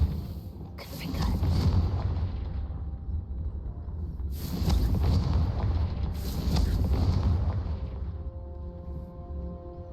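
A Confringo blasting spell in Hogwarts Legacy sets off three heavy booming explosions, each a deep rumbling blast that fades before the next, close and loud.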